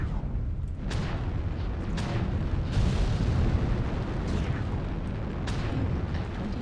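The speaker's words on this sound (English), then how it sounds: "I'm just launching missiles above this guy's head." Missiles launch and explode in the mech combat game MechWarrior Online, a dense roar of repeated booms and bursts sounding every second or so over a constant rumbling background.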